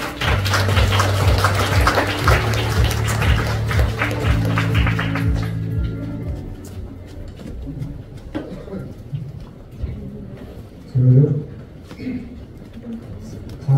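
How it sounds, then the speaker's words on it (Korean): An audience at the 2023 Pocheon peace development forum gives welcoming applause. Dense, close clapping fills the first five seconds alongside sustained music, then fades into quiet room noise and a few voices. "박현수 대표이사 모실 때 환영의 박수 부탁드리겠습니다."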